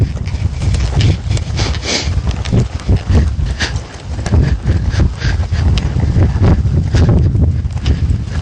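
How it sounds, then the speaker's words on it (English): Hooves of a Morgan horse walking during groundwork over obstacles, a steady clip-clop of repeated thuds close to the microphone, with some wind noise and no talk. "Eve is an extremely willing Morgan horse."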